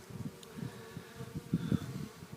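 Honey bees buzz steadily around a swarm catch box, a close, continuous droning hum with a few brief louder passes.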